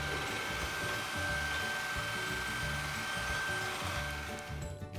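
Shark IZ201UK cordless vacuum cleaner running, a steady whirring motor hum with a faint high whine and soft pulsing from pushing it across the floor, close and continuous throughout.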